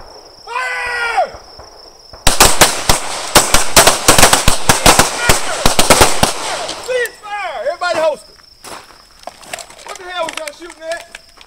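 Rapid volleys of gunshots crack across a firearms training range from a high-ready start, loud dense bursts lasting several seconds, with shouted voices and calls before and after the firing.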